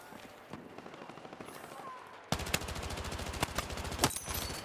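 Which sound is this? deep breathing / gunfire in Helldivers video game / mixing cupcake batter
gunfire in Helldivers video game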